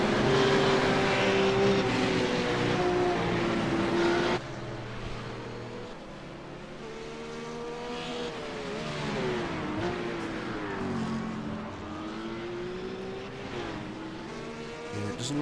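Race car engines at Twin Ring Motegi in a GT simulator video game roar and whine through gear changes, with pitch rising and falling as cars accelerate and brake. The engine noise holds steady and continuous throughout.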